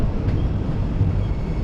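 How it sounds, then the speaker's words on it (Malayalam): An LHB passenger train arrives at Madurai Junction, a steady low rumble with a faint whine, continuous and moderately loud, heard alone without talk. "ഇതാ ഇവിടെ ഒരു LHB ട്രെയിൻ വരുന്നുണ്ട്."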